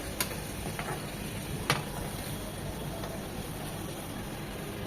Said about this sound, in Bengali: দেখতে পাচ্ছেন আমি কতটা হালকা করে ভেজে নিচ্ছি।